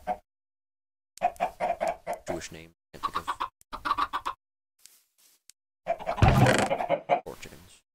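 Chickens clucking in short bursts between stretches of silence in a game setting, with a person talking over and between the clucks and a louder scuffle near the end.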